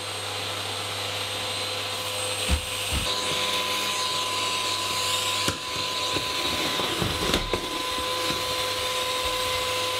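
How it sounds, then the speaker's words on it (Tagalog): A household vacuum cleaner runs steadily with a loud, even motor drone and a high whine, bumping now and then as it is pushed across the floor, with no talking. "Eto, nag-vacuum na lang ako."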